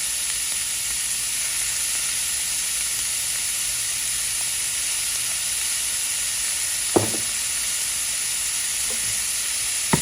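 Empanada beef filling seasoned with salt and black pepper sizzles steadily in a pan, a loud, even frying hiss with a couple of brief clinks near the end.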